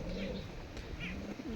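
A pigeon coos softly in a home loft, low repeated hoots close by with faint rustling and background murmur.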